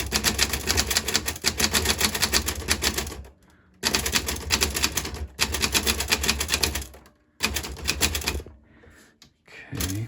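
A Smith Corona Silent Super typewriter is typed on quickly and close up, with dense runs of clattering keystrokes broken by two short pauses and a carriage sound near the end.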